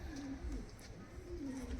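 Low, soft cooing of large Kalduma pigeons in a loft, a couple of rolling coos close by against a quiet background.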